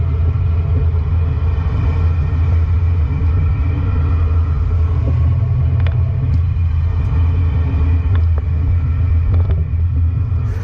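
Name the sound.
Ford F-53 motorhome driving on a test course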